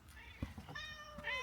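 Outdoor cat meowing on a cool, misty day after light rain, a few short, moderately close meows with rising tones mixed in with faint background talk and ambient noise.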